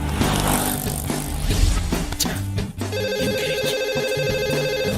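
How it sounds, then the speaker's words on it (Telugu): A mobile phone rings with an incoming call, a repeating melodic ringtone pattern that plays steadily over a busy background for several seconds. "ఈ ఫోన్ కాడే చేస్తున్నట్టున్నాడు"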